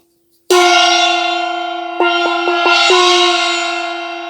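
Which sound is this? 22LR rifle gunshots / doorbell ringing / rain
doorbell ringing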